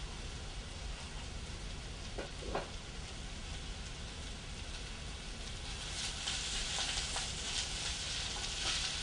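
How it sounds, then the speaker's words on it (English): Garlic fries in a pan and is stirred constantly, giving a steady crackling sizzle with a couple of brief scrapes, and the hiss grows brighter and louder toward the end. "I want to constantly give it a good stir, preventing the garlic from burning"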